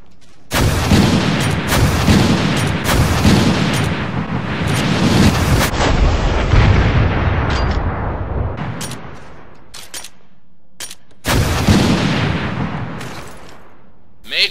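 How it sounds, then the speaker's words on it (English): Rocket launcher (RPG-7) fired repeatedly in Resident Evil: Revelations, each shot a loud, booming blast with a roaring explosion that rumbles on, several in a row, then a pause before one more heavy burst near the end. "Now let's test the rocket launcher out, of course in the infinite version, so it could fire it more than once."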